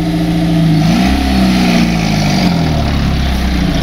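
An engine rises in pitch and revs steadily while being driven, loud and droning from inside the vehicle, with a continuous rumble underneath and no talk.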